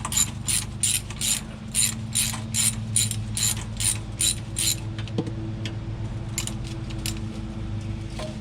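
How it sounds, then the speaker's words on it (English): A ratchet on extensions loosens the 13mm starter bolts under a car. Rapid, steady clicking bursts sound close up over a low background hum, then fade into scattered lighter clicks with no talking. "So I've got some extensions and ratchet. Let's see if I can't get those out."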